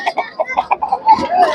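A large rooster at a Sankranti cockfight gathering gives a run of short, evenly spaced clucks, close and clear, followed by a longer rising call near the end.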